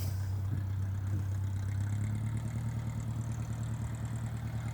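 A mini tractor hills two rows of potatoes at once with disc hillers, its engine running with a steady low hum and drone throughout, fairly even and continuous with no speech.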